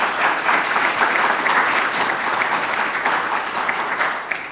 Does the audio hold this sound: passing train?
no